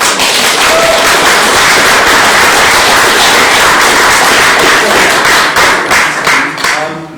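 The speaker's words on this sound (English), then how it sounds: "So we have a little round of applause." Applause from a seated audience at a town council meeting during an award presentation, dense and sustained clapping with sharp hand strikes, fairly loud and near, tapering off toward the end.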